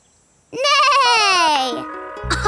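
A voice from a cartoon imitates a horse neigh: one loud, drawn-out, wavering whinny that slides downward in pitch and ends with a short rough burst.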